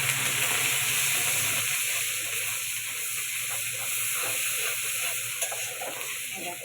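Ginger frying in hot oil for vegetable khichuri, giving a steady close sizzle with light stirring throughout and no voices.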